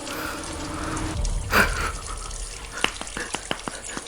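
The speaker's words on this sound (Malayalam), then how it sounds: "എന്താണ് പൈപ്പിൽ നിന്ന് വെള്ളം വീണ സൗണ്ട് കേൾക്കുന്നുണ്ട്" Water falls from a pipe at night, maybe a burst pipe, first as a soft running wash, then as several separate sharp drips and splashes near the end, with a brief breathy burst midway.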